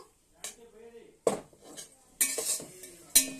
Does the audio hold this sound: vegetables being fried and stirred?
yes